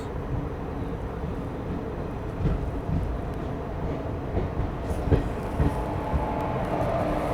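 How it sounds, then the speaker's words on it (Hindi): Mussoorie Express arriving at Raiwala Junction, heard from on board: a continuous low rumble of the moving train with faint wheel clatter and occasional clanks, steady and moderately loud. "रायवाला अराइव कर रही है अपनी ट्रेन जो है अपनी मसूरी एक्सप्रेस"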